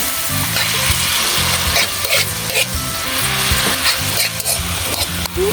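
Steady, loud sizzling and bubbling of food with oyster sauce cooking in a hot pan, with occasional scraping stirs.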